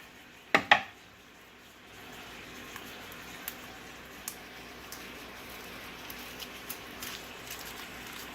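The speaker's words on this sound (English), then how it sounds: "Cut the onion." A sharp kitchen knife cuts an onion on a board for chicken and sausage gumbo, starting with two firm chops followed by a series of light, evenly spaced taps, close and quiet.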